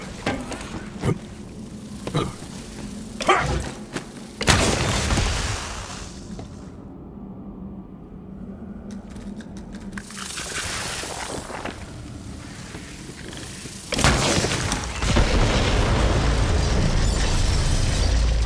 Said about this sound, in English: Explosion echoed through the forest, and those devil riders didn't even get a chance to hit the brakes.